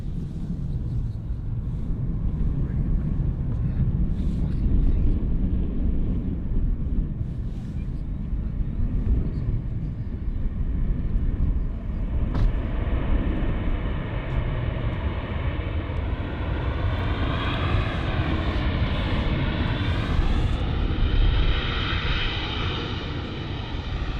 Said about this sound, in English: got an arrival inbound actually, so the Ryanair 737-800, which is arriving from Barcelona on its 1 hour and 48 minute long journey